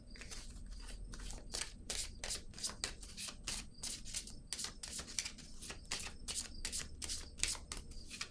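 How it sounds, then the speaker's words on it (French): Tarot cards are handled and laid onto a table in a quick series of soft papery swishes and slaps, faint and close, with no talking. "Je vais déposer une carte ici encore."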